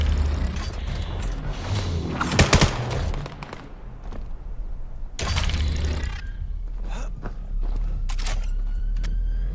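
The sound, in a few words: gunfire in a VR shooter video game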